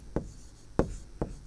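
Three short, scratchy strokes of handwriting, spaced unevenly and close by, each a quick rasp against a quiet background.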